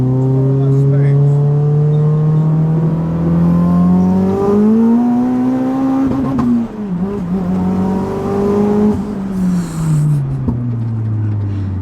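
A turbocharged Vauxhall Corsa VXR engine revs loud and close from inside the car, its pitch climbing, dipping and climbing again through several pulls, with voices talking over it.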